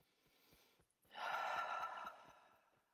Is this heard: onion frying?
no